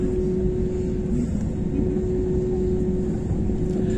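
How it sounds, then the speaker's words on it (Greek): An Aegean Airlines Airbus A320neo taxis the long route to takeoff at Athens Eleftherios Venizelos airport, giving a steady, continuous engine hum and cabin drone with no breaks throughout. "Είναι μεγάλη διαδρομή για να πάει για απογείωση το αεροπλάνο εδώ στο Ελευθέριος Βενιζέλος."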